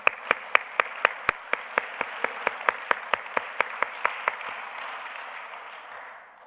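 Applause in a Korean church service during a revival meeting, a crisp rhythmic clap of a steady beat about three per second standing out over a softer wash of many hands, fading after several seconds.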